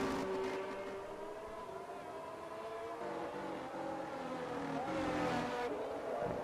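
A racing car with a Red Bull engine in a racing video game at a Netherlands track, its engine note rising and dropping through downshifts, loud and continuous with a steady drone underneath.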